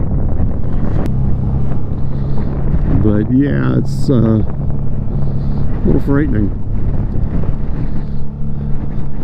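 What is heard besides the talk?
wind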